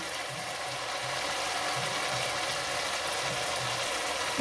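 Fish frying in a pan of sautéed spices for a home-cooked fish curry, giving a steady, dense sizzling hiss that runs without pause throughout.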